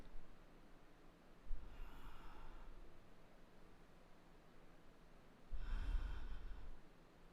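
Two slow, deep breaths during a live fitness yoga session, heard as soft airy rushes a few seconds apart over a quiet background hiss.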